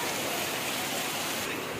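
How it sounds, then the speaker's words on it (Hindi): Heavy rain pours outside during a wet downpour, a dense, steady roar of rainfall that stays loud and close throughout, with no talking. "तो आप देख सकते हो कितनी तेज़ बारिश हो रही है"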